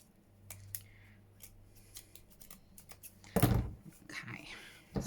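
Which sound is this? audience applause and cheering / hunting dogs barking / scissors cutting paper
scissors cutting paper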